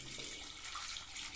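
Water pours steadily from a tap into a pressure cooker holding washed baby potatoes, a continuous bright gushing splash with no talk over it.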